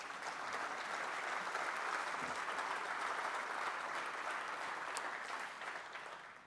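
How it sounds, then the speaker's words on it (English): Conference audience applauding event sponsors at a state technology gathering, dense sustained clapping from a large crowd that holds steady throughout and tapers slightly at the end. "let's give these companies a big round of applause"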